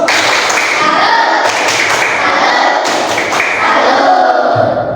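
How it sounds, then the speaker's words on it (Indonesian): A classroom audience applauds group 2 of a fifth-grade science lesson, with loud, dense, steady clapping filling all five seconds and no clear voices over it. "Tepuk tangan."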